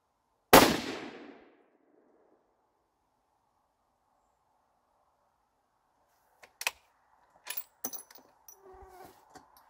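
A single loud rifle shot from a Savage Axis .223 Remington rings out near, then decays into silence, followed later by scattered clicks and rustles.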